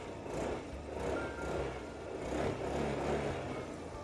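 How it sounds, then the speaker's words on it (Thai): Stock exhaust of a 2018 Yamaha Grand Filano scooter idling and revving, a steady low engine drone holding at a constant level for the whole stretch with mild swells, no talk over it. "เรามาฟังเสียงท่อกันหน่อยนะครับคันนี้ รถบ้านท่อเดิมนะ"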